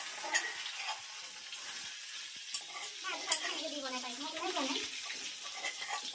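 Cumin seeds sizzle in hot oil while vegetables are being cooked, a soft steady frying hiss with occasional stirring clinks as a voice talks partway through.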